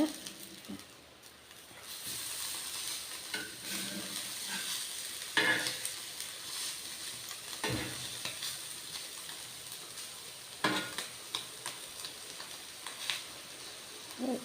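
An egg fry cooks in a covered pan over a low flame, giving a soft, continuous sizzle with occasional faint pops and clicks.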